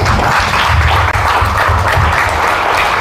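A church congregation in Malvar, Batangas applauding together, a dense, loud, continuous wash of clapping that stays steady throughout.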